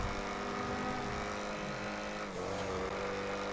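Steady engine drone of a BMW 328i driven off road in a GTA video game, continuous and loud with a brief shift in pitch partway through, no talk.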